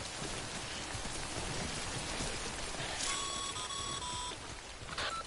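Steady heavy rain in the video game Death Stranding hisses throughout, with a brief series of electronic beeps sounding over it near the end.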